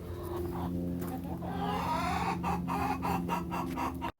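Backyard chickens on an urban homestead, including a broody hen, give low, repeated clucks and a few rising calls, close by over a steady background hum, with no talk.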